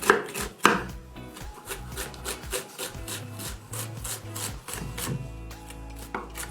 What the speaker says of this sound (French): Après le fenouil, je coupe un petit cube.